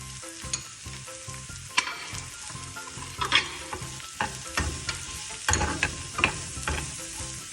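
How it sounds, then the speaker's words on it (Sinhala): Chopped carrots are stir-fried with chicken for Sri Lankan fried rice: a close, bright sizzle with repeated spatula scrapes and clatters in an uneven rhythm. "කැරට් ටික එකතු කරගෙන හොඳින් කලවම් කරගන්න."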